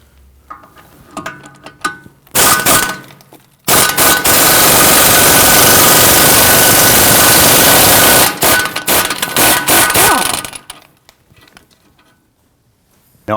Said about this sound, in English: There's a 15mm bolt on the back side here. We're going to go ahead and loosen and remove that.